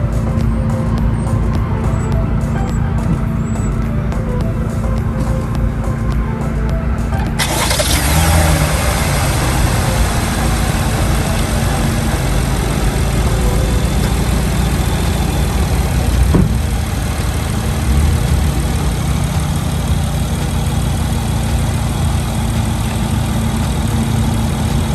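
A 2020 Chevy Blazer engine cranks and catches after a new battery, then settles into a steady, close, even idle with no one talking.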